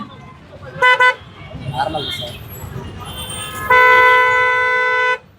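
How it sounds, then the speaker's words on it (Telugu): An auto rickshaw horn gives two quick toots, then after a pause one long, loud, steady honk close by, during a traffic police check. "హార్న్ కొట్టండి ఒకసారి."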